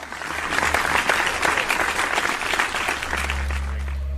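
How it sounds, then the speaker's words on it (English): A crowd breaks into sustained applause, many hands clapping loudly and evenly, then the clapping thins out near the end as a steady low hum takes over. "Come on, people. Clap."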